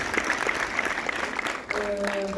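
An audience applauds at a July 4 gathering, a light patter of clapping running under the talk of a host.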